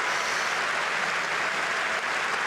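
A tennis crowd at a WTA 500 semifinal applauds a forehand winner, a dense steady wash of clapping from many spectators with no voices on top.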